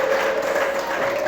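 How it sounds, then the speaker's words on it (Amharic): A church congregation claps during a pastor's sermon, steady sustained applause from many hands, with a held musical tone from a keyboard or organ running underneath. "አጨብጭቡ ለጌታ ክብር ይሆን።"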